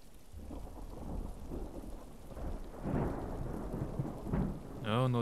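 Thunder rumbles and rolls through steady rainfall, swelling in loudness, and a brief voice is heard at the end.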